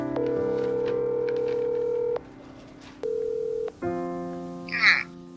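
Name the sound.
telephone dialing a call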